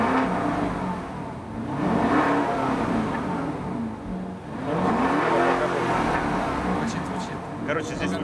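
A car fitted with an Akrapovic exhaust revs loudly at close range in two rising-and-falling sweeps, with voices talking in between.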